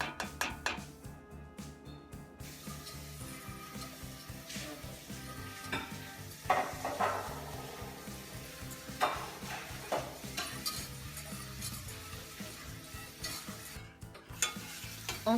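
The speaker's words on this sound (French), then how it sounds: "Dans une petite casserole, chauffez la crème jusqu'à éboutir." Heavy cream heats in a small saucepan with a soft, steady simmering sizzle, punctuated by quiet stirring clinks and scrapes of a utensil against the pan.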